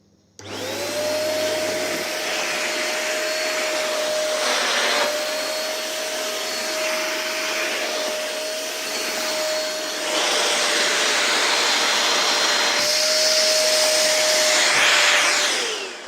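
A Fantom P1200 vacuum cleaner runs loud and close for about sixteen seconds, a steady motor whine with airflow rush that shifts slightly in pitch as suction changes, no talking over it.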